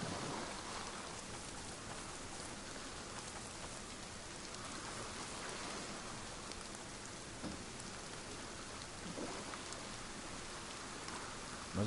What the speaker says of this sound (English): It's pissing rain again.